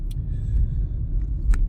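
Low rumbling road and engine noise fills the inside of a moving car on a freezing day, steady and close, with a couple of faint clicks or jingles and no talking.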